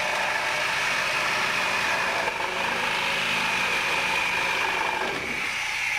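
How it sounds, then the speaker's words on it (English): A Sawzall reciprocating saw runs continuously while cutting through nails during installation of a sliding door, a steady, loud, buzzing mechanical drone with slight roughness, close by and with no talking. "Your average homeowner is now going to use the Sawzall."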